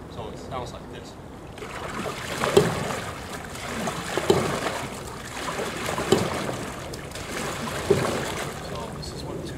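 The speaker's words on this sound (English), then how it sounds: "sometimes you hear the dropping of the paddle on the gunnel" A canoe paddle knocks against the gunnel during each stroke, four evenly spaced hollow thuds about two seconds apart over lapping, trickling water.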